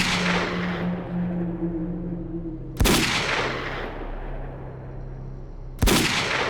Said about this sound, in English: he was permanently stuck shooting at a wall